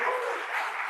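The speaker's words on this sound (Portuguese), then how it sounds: "Vamos dar uma salva de palmas à palavra de Deus?" A church congregation at a Pentecost gathering breaks into a brief burst of dense clapping, steady and fairly loud, with no voices over it.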